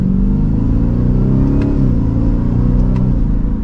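A 2024 Ford F-150 Raptor R pickup truck engine rumbles steadily and builds as it accelerates, a loud, continuous low drone with the pitch rising and shifting throughout.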